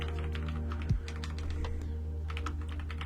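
Fingers tap a computer keyboard in a quick, uneven run of close, light clicks, with one soft thump near the start and a low hum underneath.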